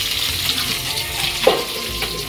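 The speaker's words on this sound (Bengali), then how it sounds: "সব কাটাকুটি হয়ে গেছে, মাছটা ভাজা বসিয়েছি।" Fish sizzles in hot oil in a pan in a home kitchen, a dense, steady frying hiss with a brief clatter partway through.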